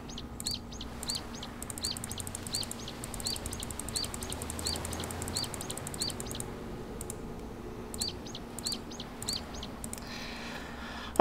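A bird in the video game To The Moon clucks again and again in short, evenly spaced calls over a low, quiet hum, with a brief louder sound right at the end.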